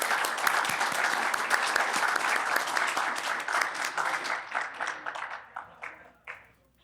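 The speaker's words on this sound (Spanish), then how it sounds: "Un aplauso" An audience claps and applauds at a Cáritas anniversary event, dense and steady at first, then thinning into scattered claps before fading out.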